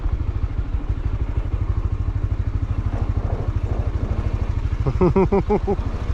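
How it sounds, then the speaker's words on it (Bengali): A Honda CB150X motorcycle lies after a skid crash with its rear wheel spinning, giving a steady, rapid, rhythmic chugging and clatter close by, with a brief voice breaking in near the end. "ওর পিছনের চাকা অটোমেটিক ঘুরে যাচ্ছে।"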